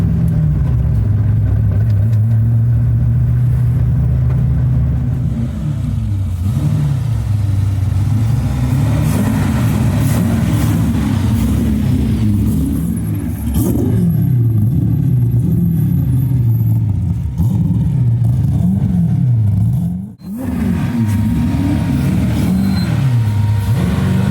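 A Corvette Z06 running a Haltech Nexus engine build drives under its own power, its engine droning and rising and falling through gentle revs from start to end, with a brief dip near the end and no voices.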